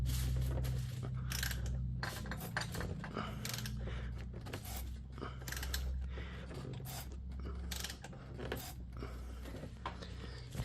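A wrench turns the crankshaft of a second-generation Mitsubishi Eclipse GSX engine during a timing belt job, producing close metallic creaks, ratcheting clicks and clanks in irregular bursts over a low hum.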